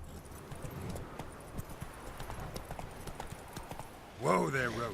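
Roach the horse in The Witcher 3 video game clip-clops at a steady walk, soft close hoofbeats under game ambience, followed at the end by a voice.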